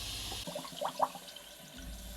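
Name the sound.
campervan shower tap running, water backing up in drain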